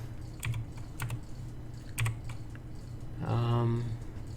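Computer keyboard keys tapped a few times in a quick, sparse pattern while trying to restart a level in the upside-down puzzle game Graviton, followed by a brief tonal game sound.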